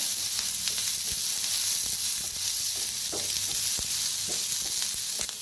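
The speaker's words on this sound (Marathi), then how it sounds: "त्याच्यात ओतूया तेल, मिक्स करून आणि भाजून घेऊया कांदा" Onion fries in oil while being mixed in a pan for an eggplant and potato curry. A loud, constant sizzle runs throughout, with occasional soft spoon clicks and stirring scrapes close by.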